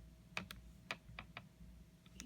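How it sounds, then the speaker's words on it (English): Buttons pressed on a calculator keypad to enter a sine calculation, a handful of separate clicks in an irregular rhythm, close and quiet with no talking. "Now I just enter this in my calculator."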